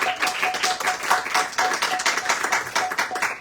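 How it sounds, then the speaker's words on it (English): Audience clapping for the host at an evening Harikatha gathering in Seattle: steady, dense handclaps carry on throughout at an even level, no voices. "One clapping for the host."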